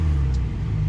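Turbocharged Porsche 935 race car parked on a hill climb course, its engine running with a loud, steady, deep rumble that fills the short moment close by.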